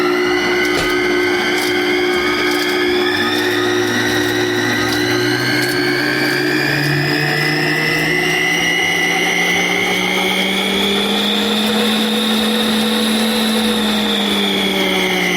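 AceKool stand mixer running empty with nothing in the bowl, a loud, steady motor whine that slowly rises in pitch as it speeds up, continuous and close.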